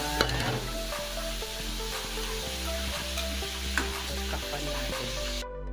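Bamboo shoots frying in a pan while being stirred, a steady loud sizzle with scraping spatula strokes and occasional clinks, continuous throughout with no voices.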